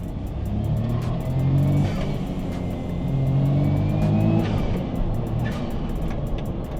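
A small rear-mounted 650cc turbocharged three-cylinder car engine drones and revs steadily while driving, with a continuous rumbling hum and slight rises in pitch.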